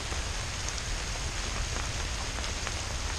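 Rain falls steadily outdoors, a dense, even hiss of drops on surfaces that holds constant throughout at moderate volume, with no talking.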